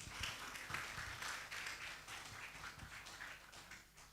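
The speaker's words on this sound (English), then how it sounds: "Ladies and gentlemen, please give a big round of applause." Faint, steady applause from a symposium audience on documents, records and archives, a soft continuous patter of many hands heard from a distance with no voices over it.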